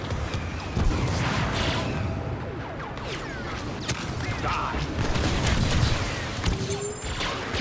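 Star Wars Battlefront 2 combat fills the scene with continuous gunfire, rocket blasts and explosions, dense and loud throughout with whooshing projectiles layered over a rumbling battle backdrop.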